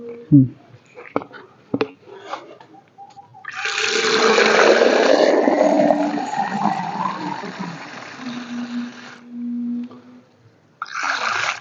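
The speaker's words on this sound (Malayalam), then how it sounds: "നമ്മൾ ഇതിൽ ഇനി വെള്ളം നിറച്ചു കൊടുക്കുക കേട്ടോ" Water rushes steadily into a bowl for a bird water station for several seconds, a loud splashing pour that fades out, with a few clinks and knocks before it starts.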